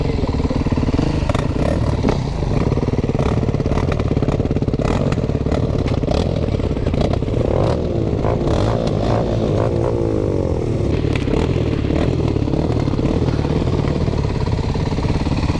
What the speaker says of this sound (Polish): Ale idzie Aprilka.